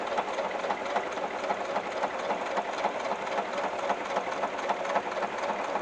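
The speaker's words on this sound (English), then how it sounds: "this sewing machine, it's just a variable speed brother sewing machine" A variable-speed Brother sewing machine stitches through a canvas and leather apron with a fast, steady mechanical whir and rapid rhythmic ticking, fairly quiet and unbroken.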